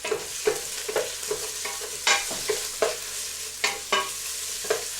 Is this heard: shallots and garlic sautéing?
yes